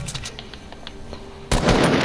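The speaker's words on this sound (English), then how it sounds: "hearing a gunshot in the distance" Gunfire in Fortnite Battle Royale during a hide-and-seek match: a few faint, distant shots crackle at first, then a louder burst of rapid fire erupts near the end.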